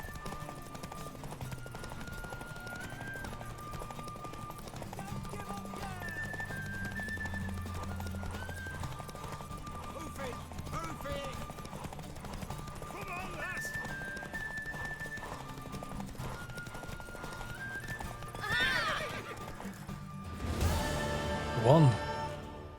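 Hooves clip-clop at a gallop through a horse race in The Witcher 3 video game, steady and moderately loud under game music and character voices, ending in a louder burst.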